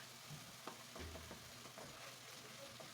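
Broken tomatoes with paprika, black pepper and turmeric are stirred in a pan, giving a faint, steady sizzle with occasional soft scrapes of the spoon.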